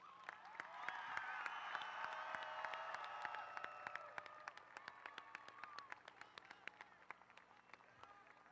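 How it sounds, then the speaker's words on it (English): Applause and cheering for a high school class of 2024 at its graduation ceremony, a crowd clapping from a distance with excited voices and shouts over it, thinning into scattered claps toward the end. "Let's give the senior class of 2024 one more big round of applause."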